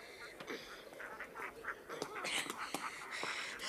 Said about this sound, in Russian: Почему на путях утки?